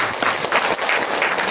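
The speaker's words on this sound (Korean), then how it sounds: "이것도 크게 박수 한번 받으셔야 됩니다" An audience at a Korean book talk concert claps in a dense, steady burst of applause, loud and close throughout the short stretch.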